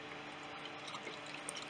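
Liquid CA accelerator pours and drips from a small spout, a faint, steady trickle with light splashy patter close by.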